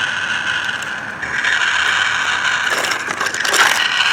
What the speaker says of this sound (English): It's making a horrible grinding noise.